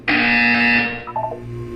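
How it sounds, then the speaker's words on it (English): An alarm-like buzzer from the video game Portal 2 blares loud and steady for nearly a second, then gives a short falling tone before fading, with no talk. "You will hear a buzzer."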